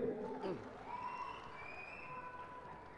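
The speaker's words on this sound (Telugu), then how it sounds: "గట్టిగా చప్పట్లు కొట్టండి" Audience applause and crowd noise at a Telugu movie audio launch comedy show, a steady wash of clapping and cheering held at moderate level without breaks.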